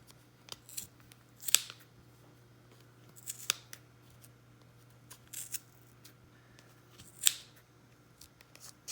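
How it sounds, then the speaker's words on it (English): Strong scissors snip through yarn wrapped on a pom pom maker, a few crisp close cuts spaced every couple of seconds over a faint steady hum. "So you need some pretty strong scissors for this."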